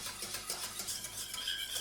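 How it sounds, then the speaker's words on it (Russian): Soft, steady scraping and swishing of a spoon stirring custard cream in a saucepan over high heat, with faint sizzling underneath; no voices. "Варим на быстром огне при постоянном перемешивании."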